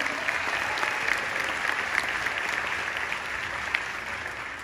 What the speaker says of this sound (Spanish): Fuerte el aplauso también para ella.